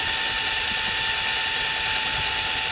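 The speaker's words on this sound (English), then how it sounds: "And you see, this is drilling, it's not moving" A drill bit boring steadily into a knife handle under light pressure, a constant high, even whine that stays close and loud throughout with no pauses and no talking.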